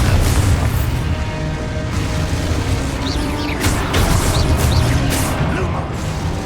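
An explosive spell goes off in the Hogwarts Legacy video game with a loud, rumbling blast and crashing debris. The roar stays dense and sustained throughout, with no talk over it.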